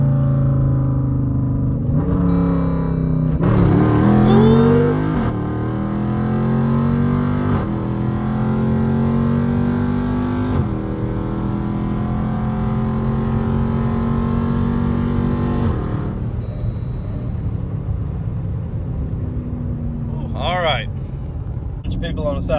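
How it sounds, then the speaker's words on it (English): Jeep SRT SUV accelerating hard through a second gear pull, a loud rising engine roar that climbs in pitch through repeated surges, with a voice talking over the engine. "I'm gonna gear down and give you a little second gear pull, and it's gonna snatch really hard"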